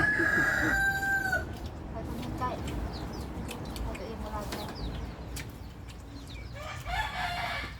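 Rooster crowing close by at the start, a loud drawn-out cock-a-doodle-doo, then a fainter crow later, with people talking in a regional Thai dialect throughout over outdoor background noise.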